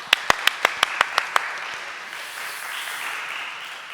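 A church congregation gives a brief burst of about eight crisp, evenly spaced claps in unison, then the hall settles into quiet room tone.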